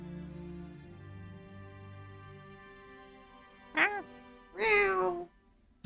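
Two short cat meows in the video game Tales of Xillia 2, the second longer and louder, following a stretch of soft game music and quiet background.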